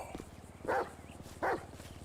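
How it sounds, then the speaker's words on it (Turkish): A pit bull barks twice, about a second apart, fairly close and moderately loud, over a low background hum. "pitbull mu havlıyor?"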